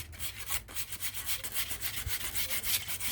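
Close, steady rubbing strokes of light sanding on a wooden axe handle with a nice grain pattern, a repeated scratchy rhythm that runs throughout without any talk.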